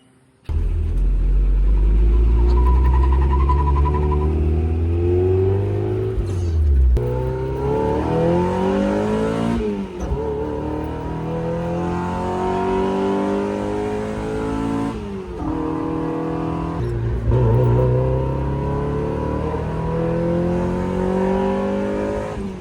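A car with a 1.6 liter engine rumbles and revs hard, engine pitch climbing through repeated acceleration runs with brief drops between gear changes, loud and close throughout.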